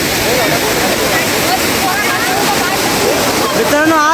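Savatkada waterfall in the Konkan region, water rushing down in a loud, continuous roar that fills the whole clip, with faint chatter of a crowd mixed in.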